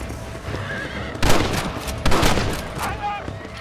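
Gunfire while fending off coyotes near a chicken coop in the Red Dead Redemption video game, two sharp loud shots about a second apart, with a horse whinnying and game ambience.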